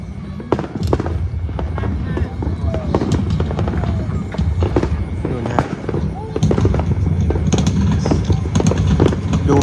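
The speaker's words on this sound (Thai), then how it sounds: "นี่ดูพลุ" New Year fireworks bang and crackle in rapid, irregular bursts across the whole stretch, some sharp and close, others distant, with voices faintly underneath.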